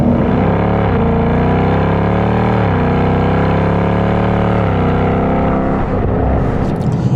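A naturally aspirated 450-horsepower Ford Mustang V8 with a 10-speed gearbox runs loud and near, climbing through the revs with several pitch rises and brief dips at the shifts, and no voices over it.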